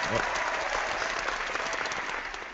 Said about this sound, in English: I always forget about the applause